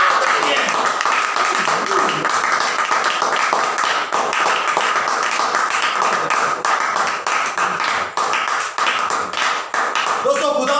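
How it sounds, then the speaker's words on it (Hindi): A church congregation claps loudly and steadily in praise of Jesus, with a dense, sustained rattle of hands and voices mixed in throughout. "यीशु के नाम में एक बार जोरदार तालियां"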